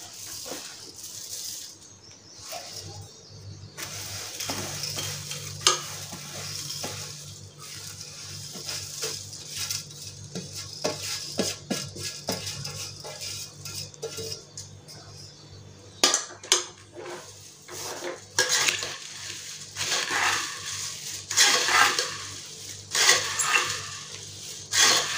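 Puffed rice and oil-fried poha flakes are tossed together in a bowl for chivda, dry rustling and rattling with scattered clinks of a spoon against the vessel, intermittent and close.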